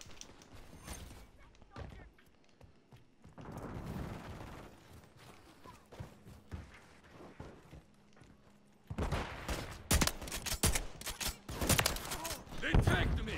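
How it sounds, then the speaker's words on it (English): Modern Warfare 3 gunfire on the Incline map comes in bursts and volleys, light at first and then dense rapid shooting near the end, with mechanical clicks and a voice in the background. "Literally wondering who the hell is that kid shooting?"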